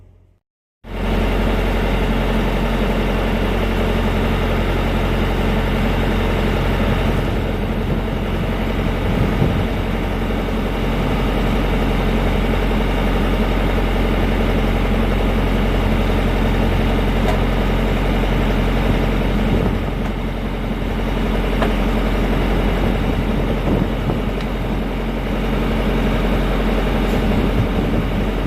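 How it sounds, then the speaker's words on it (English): Reaper machine engine running steadily in the background, a continuous droning rumble with a faint mechanical hum, starting suddenly and holding an even level throughout, with no talk. "Sorry about the noise. Reaper's running."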